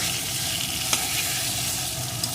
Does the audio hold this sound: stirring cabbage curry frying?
yes